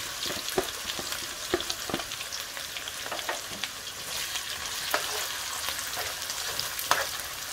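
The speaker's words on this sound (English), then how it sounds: "Now we're gonna fry the onions." Onions frying in a pan give a steady, dense sizzle with faint crackles and occasional soft stirring scrapes, close and continuous throughout.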